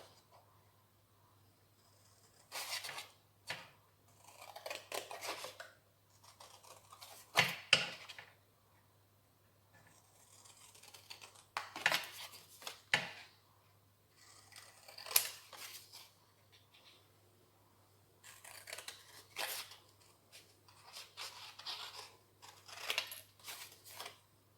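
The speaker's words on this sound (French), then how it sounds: "Donc, je vais couper." Scissors cut through paper for an Advent calendar box, several bursts of crisp snipping and rustling separated by quiet pauses, close and fairly faint.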